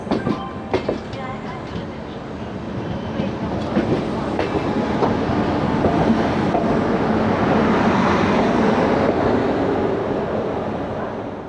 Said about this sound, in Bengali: বারাণসী জংশনে দাঁড়িয়ে গেল আমাদের ট্রেন